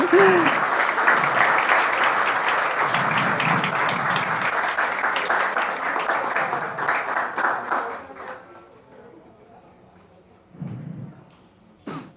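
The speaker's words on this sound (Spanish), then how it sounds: "Un aplauso nuevamente." Warm audience applause at an award ceremony for a social research prize rolls on strongly for about eight seconds, then fades, with a brief low thump and a short burst of clapping near the end.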